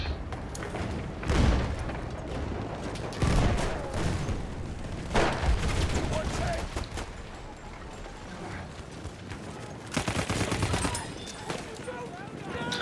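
In the video game Battlefield 1, several sharp bursts of gunfire go off between stretches of busy battlefield noise, and someone talks over the action.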